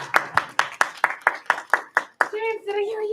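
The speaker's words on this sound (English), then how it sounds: "Give her 2 claps" Children clap in unison, a run of about nine evenly spaced sharp claps close by, followed by a voice speaking.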